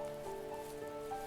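Rain falls in the video game A Fox on Christmas, a soft steady patter with faint tonal game ambience beneath it, quiet and continuous with no voices.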